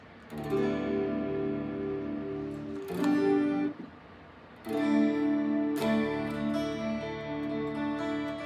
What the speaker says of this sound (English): then here's the sound of chorus.